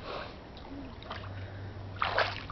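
A small child splashes about in water, paddling like a duckling; soft sloshing and trickling run throughout, with a brighter splash near the end, heard close over faint background noise.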